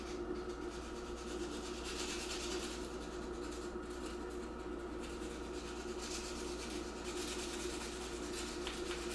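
Sandpaper rubs a wooden handle on a Damascus chef's knife, a steady, close, continuous scratchy rasping that goes on throughout with no talk.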